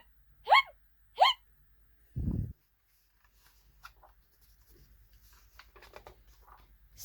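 Two quick high hiccup sounds from a skeleton, close and clear, then a brief low thump, followed by quiet rustling and page sounds.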